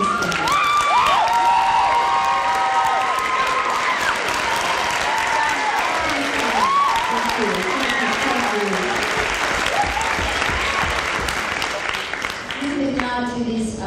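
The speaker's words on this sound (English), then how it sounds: "to just stand up as a group so we can applaud you and thank you" An audience at a school musical applauds parents with sustained, dense clapping and some cheering, while voices call out over it throughout.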